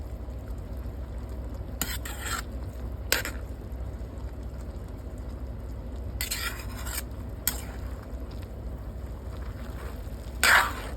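Miki bihon noodles stirred in a pan make a low, steady rustle, broken by a few sharp bursts of utensil scraping against the pan.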